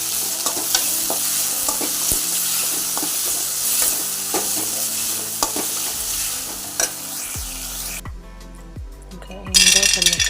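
Tomato frying in hot oil for a brinjal curry: constant loud sizzle with spatula stirs and metal clinks against the pan, briefly dropping out near the end before a louder burst.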